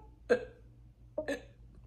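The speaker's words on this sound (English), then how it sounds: "Oh, so I got hiccup." Two sharp hiccups about a second apart, each a brief voiced catch, close but fairly quiet in an otherwise still room, with no speech.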